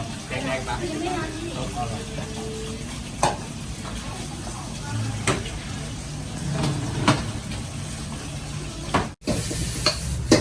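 A chef stir-fries dry-style suki with tofu at a Thai street-food kitchen in Germany, giving steady sizzling with scraping and clanking of the wok throughout, while people talk and traffic hums in the background.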